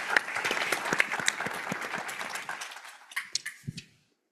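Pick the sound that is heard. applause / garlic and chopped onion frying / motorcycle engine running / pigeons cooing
applause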